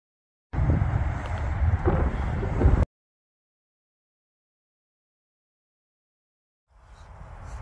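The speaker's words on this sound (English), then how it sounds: "It's getting a little bit more windier out here" Wind buffeting the microphone outdoors during bass fishing, a loud, close rumbling gust for a couple of seconds, then silence, then another rising gust at the end.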